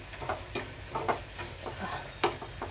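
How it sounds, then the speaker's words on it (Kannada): Soft frying sizzle of onion with mustard seeds and cumin in a pan, with intermittent light scraping and tapping of a spoon stirring, fairly quiet and without voices. "ಒಂದು ಈರುಳ್ಳಿ ಒಗ್ಗರಣೆ ಮಾಡ್ಕೊಂಡು ಅದಕ್ಕೆ ಸಾಸಿವೆ ಜೀರಿಗೆ ಹಾಕ್ಕೊಂಡು"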